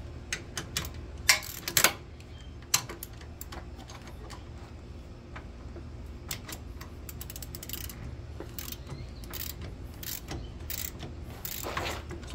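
A ratchet works on Loctite-secured brake bolts on a Can-Am X3, giving quick clicking bursts with some sharper metallic knocks near the start. The sound is close and steady, with no talk.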